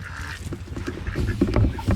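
Free-range geese and ducks on a farm honk and quack in short, overlapping calls that grow busier and louder toward the end, fairly close with light ambient noise behind.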